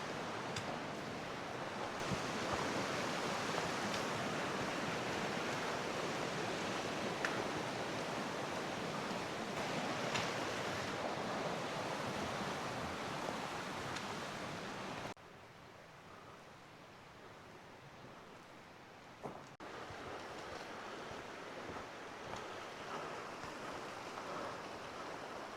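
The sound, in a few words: flowing water of the Big Wood River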